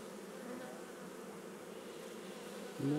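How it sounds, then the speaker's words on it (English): A dense, steady buzzing of many honey bees close by, a continuous drone with no pauses. "A lot of bees on this one."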